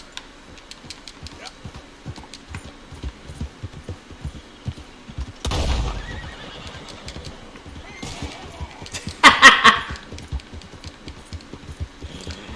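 Horse hooves clip-clop in a steady rhythm in Red Dead Redemption 2, followed by a sudden rushing burst and a short loud commotion later, with a person talking over the game sounds.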